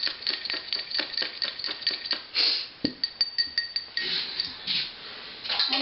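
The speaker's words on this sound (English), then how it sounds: "now you whisk together some egg white until it's frothy" Egg white being whisked in a glass bowl, a rapid run of light clinks and scrapes in an uneven rhythm, close and moderately quiet.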